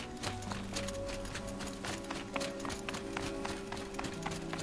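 Horse hooves galloping in the video game Horizon Zero Dawn, a steady rapid clip-clop of hoofbeats close by, layered over a sustained game music drone for the whole stretch.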